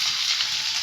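Potato, onion and carrot frying in a wok for chicken soup: an even, close, steady hiss of hot oil with no breaks, heard alone.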